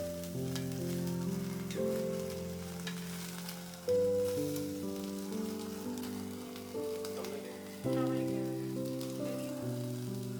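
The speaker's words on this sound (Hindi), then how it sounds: "और ज्यादा देर तक आपको भूनना नहीं है इसको, बस हल्का हल्का।" Chicken pieces frying in a pan for butter chicken, a steady sizzle and crackle running under loud background music with sustained chords.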